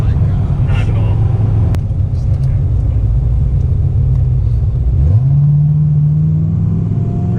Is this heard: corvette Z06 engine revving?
yes